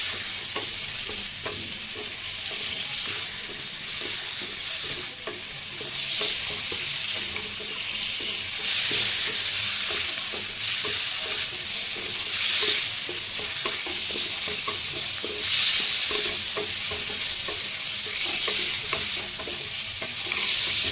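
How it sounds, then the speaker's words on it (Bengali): Fried potatoes and eggs being stirred and sautéed in a pan for egg curry, a continuous bright sizzle with repeated scraping stirs of the spatula, close and steady, with no talking. "আলু আর ডিম দিয়ে আমরা ভালো করে কষে নিয়েছি"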